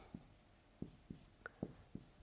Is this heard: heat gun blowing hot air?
no